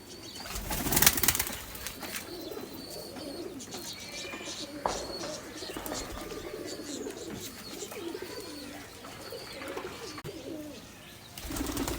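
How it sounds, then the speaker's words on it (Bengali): Fulshira pigeon chicks, a pair bred from Kalshira and Fulshira stock, coo and call repeatedly at close range in a home loft, with a few wing flaps and light background noise throughout. "এই যে দেখুন আরেক জোড়া ফুলশিরা কবুতরের বাচ্চা, কালশিরা এবং ফুলশিরা দিয়ে করা"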